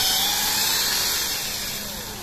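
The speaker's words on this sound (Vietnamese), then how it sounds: "các anh em thợ khoan kiểm tra. Khoan kiểm tra lõi." A drill bores into the trunk of a red sua tree to sample its core, giving a steady, close, high whining grind that eases off slightly toward the end.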